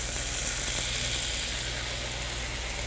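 Pork neck steak sizzles loudly on a hot iron plate, a dense, steady hiss with no breaks, heard close up for the whole span and with no voices.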